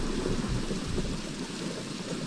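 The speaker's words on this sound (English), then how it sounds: "We still have rain and thunder." Minecraft thunderstorm with a low rumble of thunder rolling under a continuous heavy hiss of rain, loud and close, with no talking.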